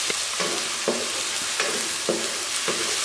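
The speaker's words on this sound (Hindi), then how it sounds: "टमाटर को हम 2 से 3 मिनट पकाएंगे ताकि टमाटर अच्छे से गल जाए।" Chopped tomatoes for an aloo keema fry in a pan with a continuous bright sizzle. A spoon scrapes and stirs about every half second in a steady, close rhythm, with no voices.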